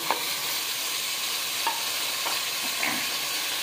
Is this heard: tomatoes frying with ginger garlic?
yes